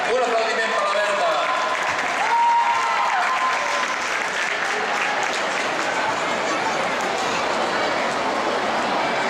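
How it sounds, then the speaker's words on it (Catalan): Audience applause at a Christmas festival featuring a roller skating club performance, loud and dense clapping from a large crowd that holds steady throughout, with faint voices and cheering mixed in at the start. "Un aplaudiment per la Berta."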